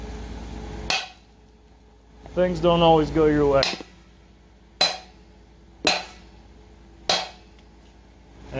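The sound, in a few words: hammering on metal tree house bracket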